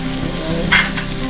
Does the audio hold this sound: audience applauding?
no